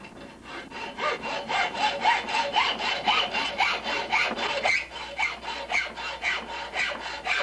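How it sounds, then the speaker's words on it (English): A hand saw with a fine-tooth metal-cutting blade cuts through metal, making a steady back-and-forth rasping rhythm of about twenty-five strokes at close range, moderately loud, with no talking. "using a fine-tooth metal cutting blade"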